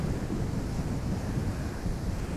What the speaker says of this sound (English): With the wind helping to blow the waves up against the rocks.